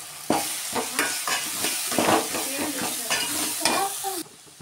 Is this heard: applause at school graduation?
no